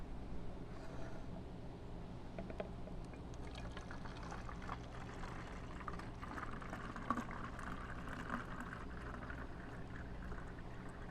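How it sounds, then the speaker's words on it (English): Warm water running from a tap into a plastic bottle being filled halfway for a glitter jar, a steady soft pouring wash with a faint trickle, close and constant, no voices. "fill it about halfway full with warm water"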